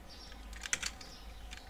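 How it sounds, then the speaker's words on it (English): A computer keyboard typed on during a supermarket management game: a few faint, quick key clicks cluster in the middle over a quiet background. "Wait, oh, I can use my keyboard."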